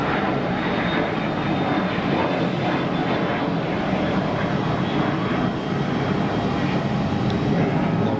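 A departing airliner rolls and climbs away from a runway at Geneva Airport, its engines a steady, broad roar that holds loud and constant throughout with no talk over it.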